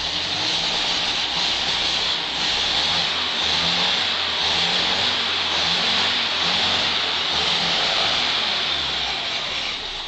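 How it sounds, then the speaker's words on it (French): A vintage Citroën Rosalie engine runs at a steady idle throughout, a continuous close rumble with a faint rhythmic pulse and no voices. "Le moteur démarre en perte de tour. Il tourne sur une pendule après quelques réglages."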